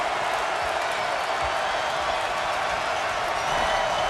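A basketball arena crowd, Texas at North Carolina, roars with cheering and applause after a three-pointer: a dense, steady wash of noise with no pauses that swells slightly near the end.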